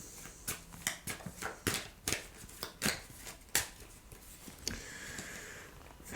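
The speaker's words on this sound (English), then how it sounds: "we're going to pick out 5 cards and we'll end the read there" Tarot cards are shuffled and drawn one by one, making a series of crisp, close card flicks and snaps in a loose rhythm, followed by a softer slide, with no talking.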